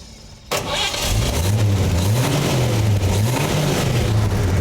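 A 1953 Chevy 3100 pickup truck engine cranks and fires after a brief quiet moment, then settles into a loud, steady, rumbling idle with slight rises in revs, close by.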